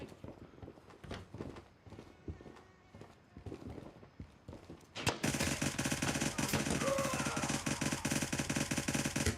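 A suppressed 300 Blackout short-barrel rifle with integral suppressor mag-dumped in Gray Zone Warfare, a rapid, dense string of loud muffled shots after quieter footsteps and movement.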